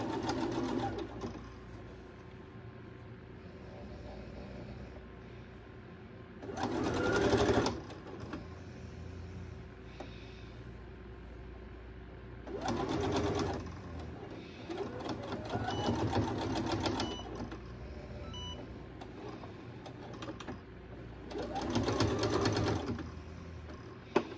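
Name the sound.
sewing machine stitching a toddler dress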